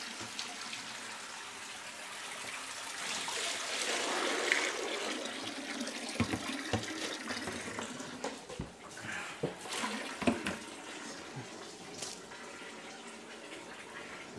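Water from a bowl poured down a sink with no plug in an Air B&B bathroom, a continuous splashing rush that turns into uneven gurgling trickles and drips, close by with no talking.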